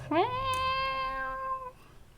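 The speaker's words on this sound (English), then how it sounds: "It almost sounds like cats." Two or three cat meows, one after another and clear and near, with a long drawn-out final cry that trails into quiet.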